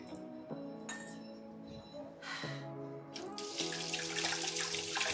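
A new dosa pan being washed under a running kitchen tap, with water splashing and rushing that grows louder, plus clinks of metal and glass in the sink.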